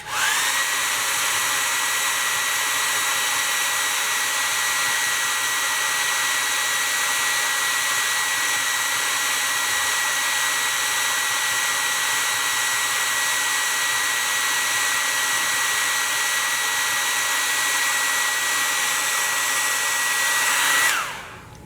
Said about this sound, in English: You're going to pat this while you're drying it